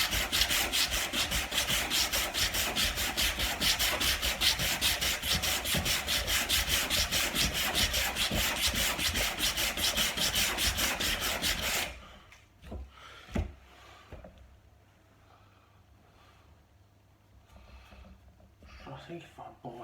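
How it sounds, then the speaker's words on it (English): Hand sanding of a wooden dining table top, fast continuous rubbing scrape lasting about twelve seconds that then stops, followed by a quiet room with a few knocks and faint movement. "I'm definitely not as good at sanding with my left hand."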